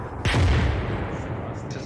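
One heavy artillery blast from an ArmA 3 test booms out, loud and near, then rolls into a fading rumble under a quiet game background.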